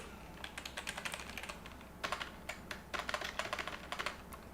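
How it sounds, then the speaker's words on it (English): Fast typing on a computer keyboard, bursts of close, crisp key clicks with brief pauses between runs, alone in a quiet room. "Keyboard? Does keyboard work?"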